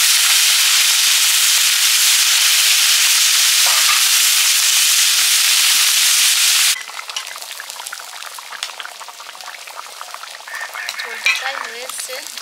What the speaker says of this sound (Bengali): এবারে চুনো মাছটা ভেজে নেব।